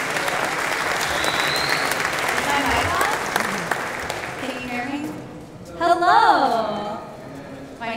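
Audience applause at a tech conference, steady clapping filling the hall for several seconds before fading, then a voice starts speaking near the end.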